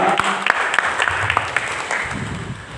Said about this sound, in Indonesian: Oke, tepuk tangan dulu buat anak-anak kita.